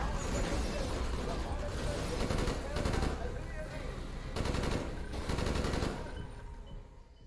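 Gunfire in the Call of Duty Black Ops video game, dense bursts of rapid automatic shots running loud and almost continuously for several seconds, with brief dips between volleys.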